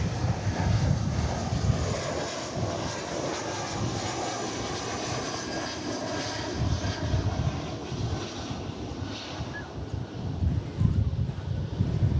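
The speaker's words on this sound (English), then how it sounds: "right behind it we will see the Viva Aerobus arriving from Monterey" A Viva Aerobus airliner arrives at DFW Airport, its engines giving a steady broad roar that swells slightly toward the end, with wind buffeting the microphone.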